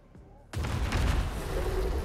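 Beast Box goal explosion effect from a Rocket League-style car soccer game, erupting suddenly as a loud booming burst after a quiet start, then a sustained rumbling, crackling roar that fills the rest of the moment.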